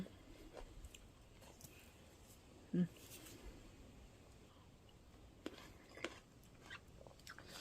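Quiet close-up chewing and biting of a fresh tomato picked from the plant, soft wet crunches scattered through a faint background with brief louder bites.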